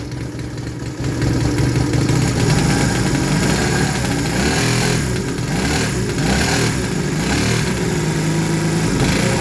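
A Honda CD 175 motorcycle engine from a barn-find restoration idles roughly with a sticky throttle, starting after a quiet second and then running as a loud, close, uneven drone.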